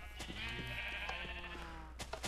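Sheep in a Minecraft sheep farm bleat in a wavering, drawn-out cry, joined by scattered clicks and short game sounds at a modest level, with no speech.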